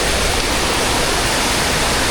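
Loud, broadband rushing water pours at the end of a waterfall where the flow is strongest, a steady roar that fills the whole moment with no voices.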